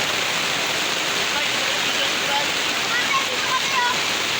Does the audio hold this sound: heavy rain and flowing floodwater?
yes